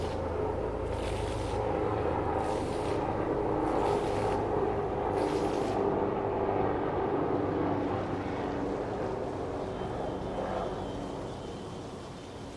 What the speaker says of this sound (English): Oh, that sound is a helicopter.